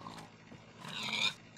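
A pig in the video game Minecraft gives short grunting oinks, with a louder, brighter squeal toward the end, heard close and alone with no speech.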